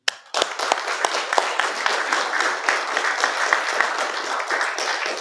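Dense, steady applause from an audience at a West Virginia State Police and ICE event honouring lead investigators, a broad crackling wash of many hands that starts abruptly and carries on evenly, with no talk over it.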